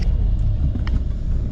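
Busy road traffic rumbles close by, a dense low roar of passing cars and engines with no gaps.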